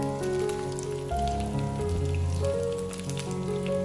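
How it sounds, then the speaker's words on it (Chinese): Grass carp pieces browning in hot oil, a steady rain-like hiss and spatter close by, constant across several seconds under gentle background music, with nobody speaking. "煎至一面金黄之后，再给它翻过来煎另一面"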